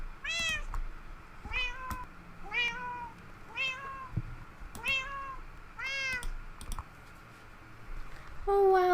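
Several short, clear meows from a cat in the video game Minecraft repeat in a loose rhythm at close range, with faint clicking beneath and a louder cry at the very end.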